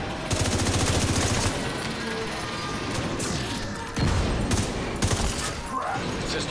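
An enemy's foam launcher fires in The Division 2 video game: loud, rapid volleys of bursts crackle close by, broken by sharp impacts and brief pauses.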